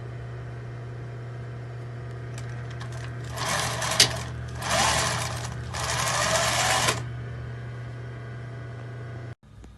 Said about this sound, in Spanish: vamos a entrar esta pestaña para ahora fijar con la costura por todo el borde